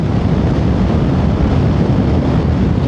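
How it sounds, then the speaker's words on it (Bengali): Strong wind roars continuously across the microphone in an open spot at the Kargil checkpost in Ladakh, loud and unbroken with no voices. "এখানে কি হাওয়া দিচ্ছে রে?"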